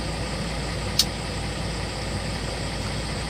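A truck idling alongside a running air conditioner, producing a steady, close mechanical drone and hum, broken once by a brief sharp click, with no one speaking.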